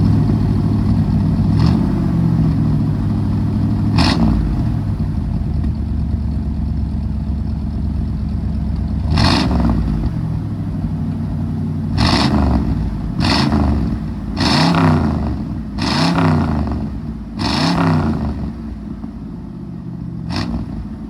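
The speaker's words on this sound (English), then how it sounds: "it sounds quite lovely with the dual exhausts" A 1958 Chevy Impala with three carburetors and dual exhausts rumbles steadily, then a rapid series of sharp throttle blips sends its engine revving up again and again, loud and close.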